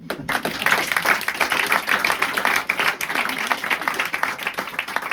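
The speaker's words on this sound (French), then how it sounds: "on peut aussi l'applaudir" Theatre audience at the Festival d'Avignon applauds a young troupe with dense, sustained clapping for several seconds, close and lively throughout.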